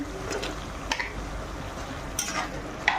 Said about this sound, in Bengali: মশলাটাকে ভেজে নেবো।